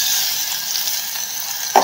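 Crushed garlic, pepper and cumin fry in hot oil with popped mustard seeds, a steady close hiss and sizzle that ends with a brief sharp click.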